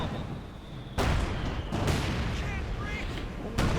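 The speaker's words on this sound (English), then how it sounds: "Lieutenant getting plastered there with high explosive fire" High explosive artillery shells slam down during a Company of Heroes 2 match, sharp booming impacts at about one second and again near the end over a dense, rumbling battle din, with a voice speaking over the fighting.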